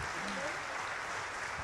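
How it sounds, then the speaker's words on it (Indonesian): An audience at an Indonesian education talk breaks into steady applause, a broad wash of clapping with a faint voice briefly audible underneath. "tepuk tangan"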